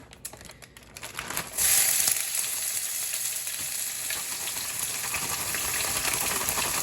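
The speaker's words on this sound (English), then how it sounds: "We're gonna throw some broccoli in this super hot pan." Loud, steady sizzling of precooked broccoli hitting a super hot oiled pan, bursting up after a brief rustle and continuing as a dense crackling hiss.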